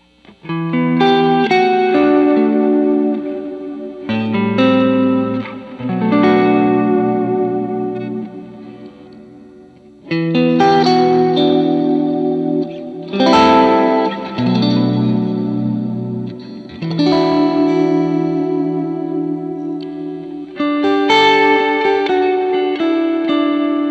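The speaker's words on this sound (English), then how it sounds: "Now let's go to a longer reverb setting. Let's go on the PCM80." Music played through a Lexicon PCM80 digital reverb on a long setting: loud phrases that repeat in sections with breaks between them, each note trailing into a lingering wash of reverb.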